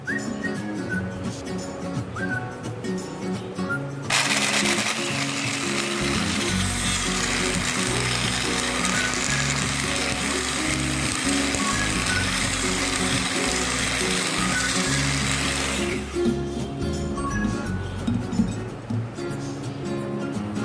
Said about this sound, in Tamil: இப்போ என்னோடய ஹேண்ட் பிளெண்டரை வச்சு நல்லா பீட் பண்ண போகிறேன்